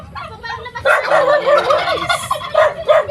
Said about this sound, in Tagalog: Habulin ka ng pabo diyan.